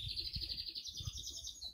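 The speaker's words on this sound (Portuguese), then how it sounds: "E as calopsitas ali." Cockatiels at a rural farm chirp continuously, a steady stream of high tweets running throughout at moderate volume with low background rumble.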